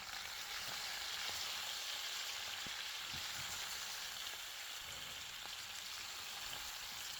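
Vegetables cut into long thin strips are stir-frying in a pan for beef chili, producing a constant close sizzle with light ticking from stirring throughout.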